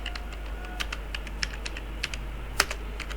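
Text is typed on a computer keyboard, a quick run of close, crisp key clicks with uneven rhythm and a few sharper strikes, and no talk.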